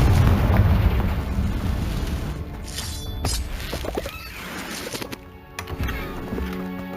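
A Confringo fire spell explodes in Hogwarts Legacy: booming, crackling bursts layered over dense, continuous game effects and music, with a brief dip in loudness before the noise swells again.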